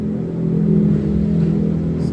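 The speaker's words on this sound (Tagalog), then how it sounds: "Padaanin ko lang yung tricycle ang ingay." A small motorized tricycle engine drones loudly and steadily nearby, a buzzing mid-pitched rumble that swells slightly as it passes.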